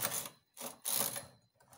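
A knitting machine carriage sliding across the needle bed while working a border design, three close mechanical swishing passes with rattling clicks, separated by brief silences.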